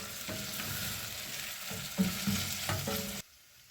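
Liver frying in a pan before garlic and ginger go in, a steady sizzle broken by several soft knocks and scrapes of stirring, ending suddenly in near quiet.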